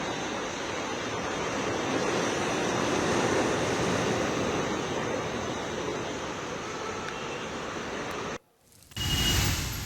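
Sea waves at high tide along the Mumbai shore during heavy monsoon rain, a loud, continuous roaring surf with wind noise that cuts out briefly near the end.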